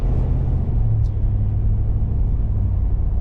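A 2023 Ford F250 XLT Super Duty 4x4 truck driving on a road, a loud, steady low rumble of engine and road noise heard from inside the cab.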